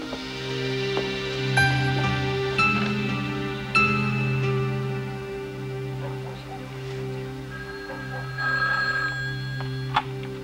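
Telephone ringing indoors in a 1990 French-dubbed thriller TV film, with repeated ring bursts sounding over a steady droning background, moderately loud and with no voices.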